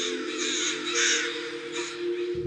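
Crows at a noisy gathering caw loudly and harshly, several rasping calls close together over a steady background hum, with no voices.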